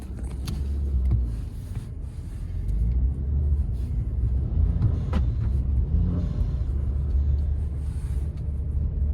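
A Mercedes C43 AMG on snow tires sits stuck in snow, its engine rumbling and surging unevenly as the wheels spin, close by with no talking.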